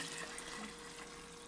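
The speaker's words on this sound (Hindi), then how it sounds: "अब हमें इसमें डाल देना है पानी" Water pours steadily into roasted moong and masoor dal in a cooking pot, a soft continuous splashing rush that stays fairly quiet throughout.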